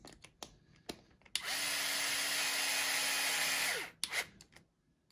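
A power drill with an electronic clutch drives a screw into an RC tire: a few brief clicks, then a loud steady whine for about two and a half seconds that cuts off abruptly, followed by short clicks.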